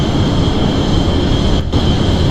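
Roaring jet engine with afterburners on a 1950s aircraft in Kerbal Space Program, a loud, steady broadband rumble holding throughout with one brief dip near the end.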